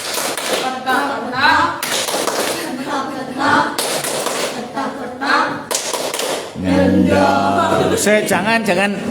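Scouts at an elementary school perform the tepuk ayam clapping routine in rhythmic bursts of sharp, close claps, with an instructor's voice calling commands between rounds.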